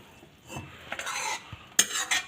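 A spoon stirs methi palak kadhi, a fenugreek and spinach yogurt curry, in a pot on the stove, making a few soft scrapes and clinks close by, with one sharper metallic knock near the end.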